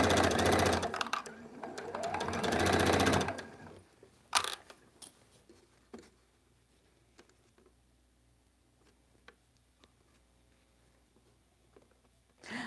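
A Juki sewing machine runs in a steady loud burst for a few seconds, then stops, followed by scattered clicks and handling noises in a quiet room.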